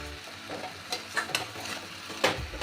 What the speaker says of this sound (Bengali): মাঝে মাঝে এটাকে একটু নেড়ে দিতে হবে